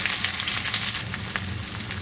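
Finely chopped onion sizzles in a pan with garlic, a steady frying hiss broken by brief stirring scrapes, close and moderately loud with no talk.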